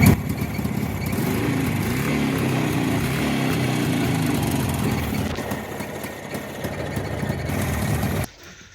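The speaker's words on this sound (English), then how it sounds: "Let's pull it out and fire it up and see what happens." A Jawa 350 motorcycle with a sidecar, just repaired, runs after being started, a loud steady engine chug with slight rises in pace that cuts off abruptly near the end.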